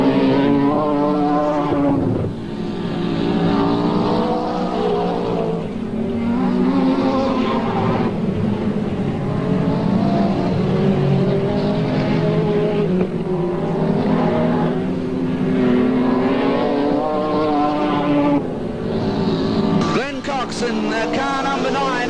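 Speed cars race at the Parramatta City Raceway speedway, their engines roaring steadily throughout under loud, continuous commentary from a race announcer.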